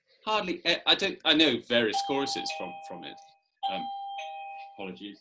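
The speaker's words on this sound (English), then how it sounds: "That's my doorbell." A doorbell rings twice with sustained electronic tones, heard under someone speaking in a quiet indoor room.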